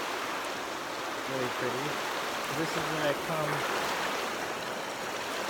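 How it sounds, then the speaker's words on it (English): A full creek rushes steadily in the open, a broad constant water hiss with a short spoken remark over it. "Here's the creek. Got a lot of water."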